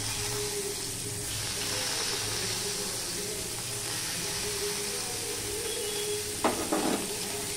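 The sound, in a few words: chopped onion sizzling while frying in a pan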